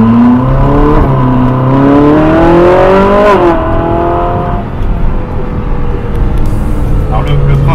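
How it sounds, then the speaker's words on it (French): Ferrari 458 Spider exhaust rising in pitch as the engine is revved hard, then dropping back as the throttle eases, loud and close, with a voice talking over it. "c'est la sonorité des échappements. Donc là je vais accélérer."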